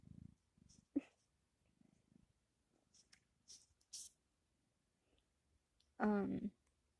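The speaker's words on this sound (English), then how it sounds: "Here's my cat." A domestic cat purrs close by, with a few soft scattered sounds, then a short louder burst near the end; no talk.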